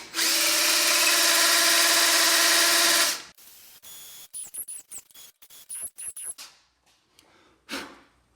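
A handheld drill spins sandpaper against an engine valve seat, a loud steady whine for about three seconds, then a string of short, faint drill bursts and clicks.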